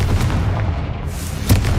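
A Confringo blasting spell is cast inside a tomb in the Hogwarts Legacy video game. A short, loud burst rings out, with a second sharper hit near the end over a steady ambient rumble.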